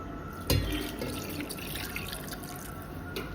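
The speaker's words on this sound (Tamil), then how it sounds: "இப்போ இதுக்கு வந்து தேவையான அளவு தண்ணி ஊற்றிக்கலாம்" Water pours steadily into a pot for a few seconds, a close, even splashing with a small knock near the start.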